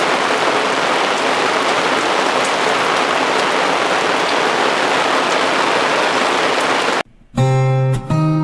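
Steady heavy rain pours down on a farm, a dense continuous hiss close by, ending abruptly near the end as a few tonal sounds take over.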